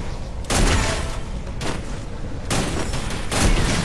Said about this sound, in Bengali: আল্লাহ স্নাইপার মেরে দিছে রেড থেকে